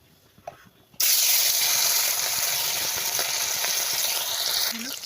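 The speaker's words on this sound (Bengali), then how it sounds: "চলো মাছটা দিয়ে দিই কড়াইতে" Loud, steady sizzling of fish frying in hot oil in a wok starts abruptly after a second of quiet and continues without letup.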